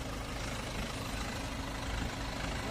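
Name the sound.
BMW 520D diesel engine idling with intermittent shaking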